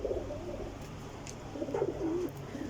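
Soft, low pigeon coos come from birds at a pigeon loft, a few short murmuring phrases over a steady background hum.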